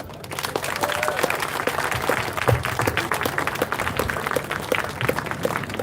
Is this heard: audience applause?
yes